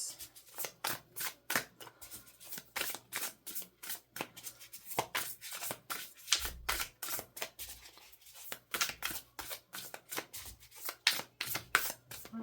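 Tarot cards are shuffled by hand in quick riffles and taps, crisp near bursts that come in an uneven rhythm with short pauses, close and fairly quiet.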